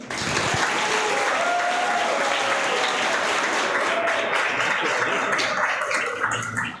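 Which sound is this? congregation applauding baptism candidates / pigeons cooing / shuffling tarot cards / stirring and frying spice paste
congregation applauding baptism candidates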